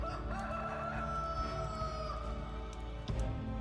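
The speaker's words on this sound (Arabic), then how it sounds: "صياح الديك يا مولاي" A rooster crows in one long, sustained call set against a steady background drone, moderately quiet and ending with a brief thump.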